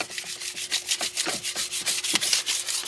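A hot tub heater part is scrubbed to knock off rust, giving close, rapid back-and-forth scraping strokes in a steady rhythm with no talking.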